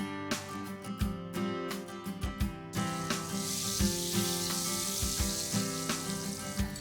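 Butter melting into hot oil in a pan for corn capsicum rice, a faint sizzle building into a steady hiss amid repeated utensil clinks and a tonal kitchen hum, with no talking.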